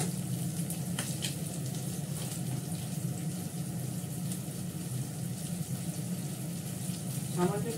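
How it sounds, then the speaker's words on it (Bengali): Onions frying in a pan, a steady sizzle at moderate volume running throughout, with faint clinks near the end. "পেঁয়াজটা ভাজা ভাজা হয়ে গেছে।"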